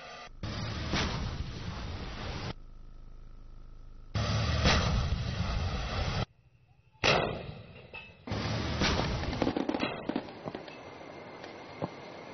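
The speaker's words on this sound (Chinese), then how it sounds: "张海雷果断激发了炮弹" An armored division's gun fires a shell during a night exercise, heard as several loud, booming broadband blasts with rumbling tails, separated by abrupt gaps and quieter stretches.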